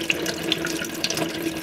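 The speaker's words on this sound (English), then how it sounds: "we're just running some cold water to really make the bottle go as cold as possible" Cold water runs steadily from a tap over a glass bottle, a continuous close hiss and splash with small gurgling variations, with no voices over it.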